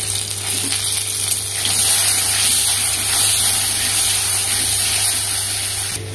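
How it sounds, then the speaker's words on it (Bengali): Taro pieces frying in a pan with a little turmeric and salt give off a steady, even sizzle that holds at a constant level throughout, with no voices. "কচুতে একটুখানি যে হলুদ, একটুখানি লবণ দিয়ে ভেজে নেব।"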